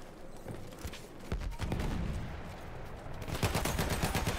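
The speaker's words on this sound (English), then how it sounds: "you can hear all these sniper bullets just flying over your head" Sniper rounds whizzing past and gunfire crackling in a Battlefield 1 battle on the Lupkow Pass map, sharp shots and bursts coming close together, growing denser and louder near the end.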